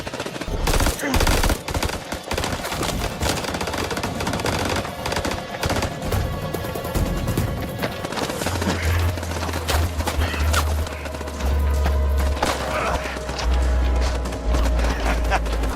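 Gunfire in an action film shootout on a ridge, dense rapid bursts and loud cracks running continuously over a heavy low rumble, with shouted voices in the mix.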